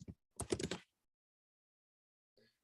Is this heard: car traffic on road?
no